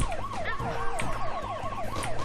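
A police car siren from a flash video game wails in a rapid repeating up-and-down pattern, loud and steady throughout, with game sound effects underneath.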